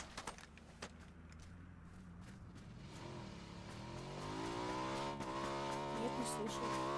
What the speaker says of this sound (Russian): Ты тачку слышал?